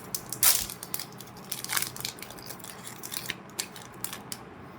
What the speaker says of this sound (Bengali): এটা আনপ্যাক করে দেখি আমরা কি পাই